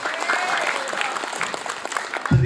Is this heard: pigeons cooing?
no